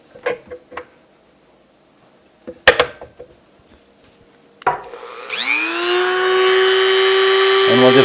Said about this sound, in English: I'm going to take this Dremel with this teeny little drill bit